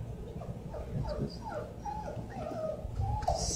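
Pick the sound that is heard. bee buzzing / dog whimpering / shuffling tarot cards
dog whimpering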